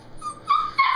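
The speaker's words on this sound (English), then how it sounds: "That's what we heard all night last night with that barking." A new puppy gives thin, high whimpers that rise into sharper yipping whines, two short bursts growing louder toward the end, with no talking.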